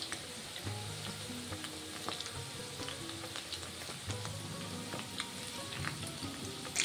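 Potato snack pieces sizzle in hot oil with a steady crackling hiss, broken by occasional stirring scrapes and a louder clatter at the end.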